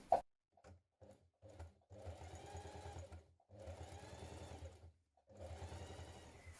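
Sewing machine running top stitching around a garment neckline in short bursts, three sustained runs of rapid mechanical stitching separated by brief pauses, close and clear with no talk.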